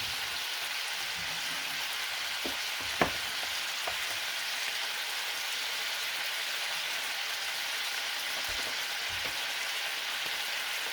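Steady hissing sizzle of squid frying in a hot pan, continuous and close, with a few faint pops and clicks.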